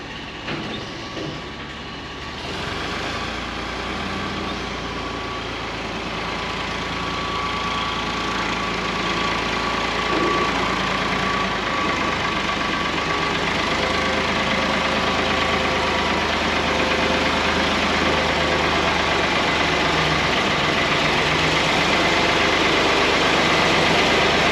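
A skid steer's engine idles with a steady, loud, rumbling drone that grows gradually louder as the machine moves into the shop, with no voices.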